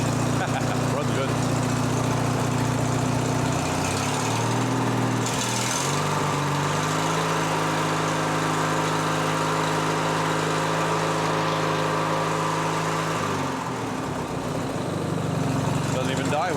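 A Craftsman riding lawn mower engine, with water in the fuel, runs close by with a steady buzzing hum. The pitch drops and settles partway through, then rises again toward the end, and a person talks over it.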